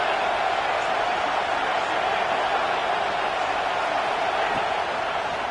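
A steady, dense roar from a football stadium crowd urging on the defense on third down, loud and continuous, with no distinct applause bursts.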